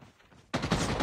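Call of Duty Mobile gunfire in a battle royale match: after half a second of quiet game ambience, a loud, dense burst of rapid automatic shots rings out and keeps going to the end.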